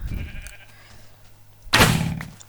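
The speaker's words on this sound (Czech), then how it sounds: "A tady máme beránky nebo ovečky teda." A sheep in the Minecraft video game lets out a short, fairly loud bleat near the end, after a faint earlier bleat and quiet game background.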